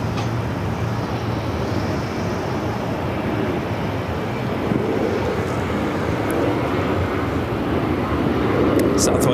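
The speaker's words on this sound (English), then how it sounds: "Southwest coming in from Colorado Springs, 737-800, flight 1111, now heading to Terminal 4." A Southwest Boeing 737-800 taxis at Phoenix airport toward Terminal 4, giving a steady, broad engine rumble heard from a moderate distance, with a faint wind-like hiss and a slight rise in level near the end.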